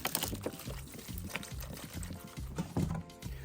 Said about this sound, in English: Now we're going to fill this up with water and put it back on the fire.